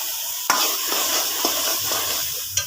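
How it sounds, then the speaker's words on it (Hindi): Pumpkin halwa with khoya roasts in a pan, a steady sizzle under a few sharp scrapes of the spoon against the metal as it is stirred, close and without talk. "अच्छे तरीके से 5 मिनट तक हम मज़ीद इसे भूनेंगे"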